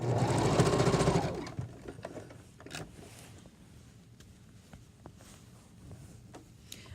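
A sewing machine backstitches across pillowcase fabric in a fast, loud mechanical chatter for about a second and a half, then stops, leaving faint handling clicks and rustles.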